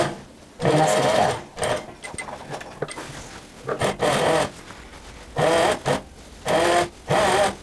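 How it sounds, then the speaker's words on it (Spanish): A sewing machine stitches a seam along the edge of a woman's classic shirt collar in several loud, close bursts of rapid whirring, with pauses and faint handling noises between runs. "Vamos a pasar una costura por todo el borde del cuello para que quede"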